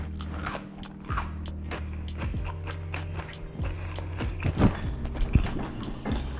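Someone bites and chews crispy air-fried falafel made in a Midea Flexify French door air fryer oven. A series of close, crackling crunches comes in irregular bursts that grow louder toward the end.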